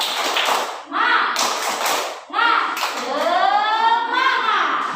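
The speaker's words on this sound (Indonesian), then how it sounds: "Sekali lagi. Tepuk semangat." A school class claps out the rhythmic 'tepuk semangat' spirit chant in quick bursts, with children's voices calling loudly between and over the claps, close and lively.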